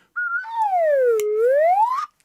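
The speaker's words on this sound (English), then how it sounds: "she has got me a professional Swanee whistle" A professional Swanee whistle plays one unbroken sliding note, dipping from high to low and gliding back up over about two seconds, loud and close with nothing else behind it.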